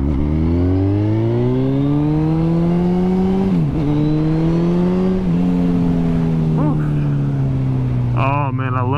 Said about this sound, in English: Those quick little blasts is what make bikes this size so fun.